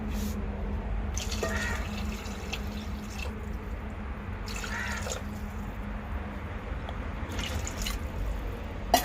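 Water is poured into a cooking pot of beef kaya curry in a few separate splashing bursts, close by over a steady kitchen background hiss.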